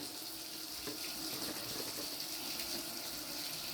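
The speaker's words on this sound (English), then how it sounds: "Turn off that water." Water running steadily from an indoor tap, a constant gentle splash with no talking, held at moderate volume throughout.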